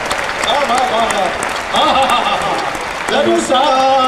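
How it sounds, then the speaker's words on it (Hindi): A crowd claps at a Kumar Vishwas Hindi poetry recital, a loud dense burst of applause that swells in waves, with a voice speaking and calling out over it. "यार एक बार ताली हाथ उठा के बजा लो यार"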